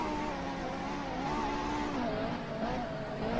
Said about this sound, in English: You can hear him trying to be conservative on the throttle through the final chicane